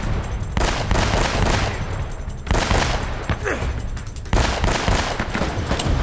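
Dense, continuous gunfire from Uncharted: Drake's Fortune, with overlapping shots and rapid bursts rolling on throughout, loud and close with only brief dips between volleys.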